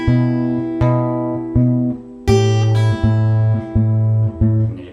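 Guitar chords are fingerpicked steadily with a constant thumb bass, holding B for a bar and then moving to A. The notes ring clear and close, one plucked attack after another, with no voice.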